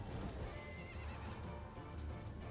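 Battle in the video game Mount & Blade Warband, Prophesy of Pendor mod, with horses neighing and hooves clopping amid a dense, continuous clamor of combat, fairly quiet and mixed.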